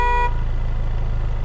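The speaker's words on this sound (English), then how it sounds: "Honk." A car horn honks once in the Fortnite video game, a short bright blast over a steady low engine drone that continues alone afterward.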